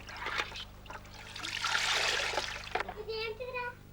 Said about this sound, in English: if they pour it through a soap dish, it makes a shower